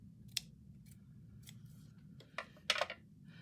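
Scissors snip through collage paper while tags are decorated, a few sharp separate cuts at close range with a quicker cluster of snips near the end, over a low steady background hum.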